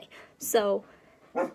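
Dogs barking in a home: two short, close barks break through, with a person talking alongside them.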